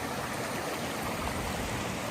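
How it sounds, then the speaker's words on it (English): Rainwater pours from a gutter in Seffner, Florida during a downpour, slamming onto a sidewalk in a steady, dense hissing roar that stays loud and even throughout. "video was captured of rain from a gutter slamming into a sidewalk"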